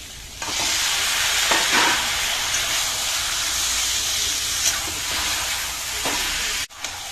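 Mutton sizzles with spice masala in a hot pan, a loud, continuous frying hiss with a few stirring scrapes, close up and without speech, ending with a brief drop.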